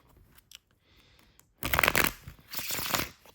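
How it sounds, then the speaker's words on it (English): A few light taps and soft card handling, then two bursts of rapid riffling as a tarot deck is shuffled up close. "I just have a little bit of shuffling space here"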